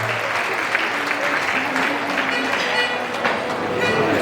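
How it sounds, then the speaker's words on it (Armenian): A crowd at a celebration for parents claps in steady, dense applause throughout, with crowd noise and voices mixed in. "եւս մեկ անգամ ծափարում ծնողների համար"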